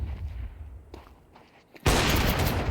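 Gunfire in Counter-Strike 2, an ESEA Season 53 match with an AK in play: faint distant shots and footsteps give way to a sudden loud, close burst of rifle fire that sustains to the end.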